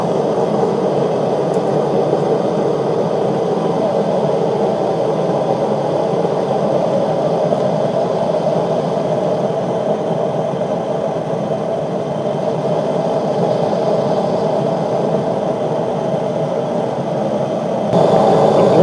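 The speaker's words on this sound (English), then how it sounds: "The blower's now running on 12 volts and things are a lot louder and hotter." Steady roaring whoosh of a blower feeding a DIY propane burner run at 12 volts, a loud constant drone throughout with no breaks.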